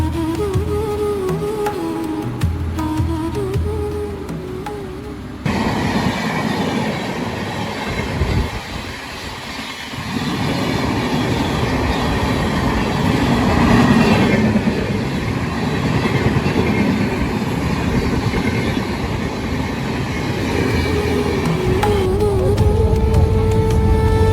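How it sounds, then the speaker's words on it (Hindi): A passenger train rolls along the tracks after leaving Lucknow, a steady loud rumble of wheels and carriage noise heard from inside the coach throughout, with no talking. "हम लोग ट्रेन के अंदर बैठ गए। और करीब 11:20 पे हमारी ट्रेन लखनऊ छोड़ देती है।"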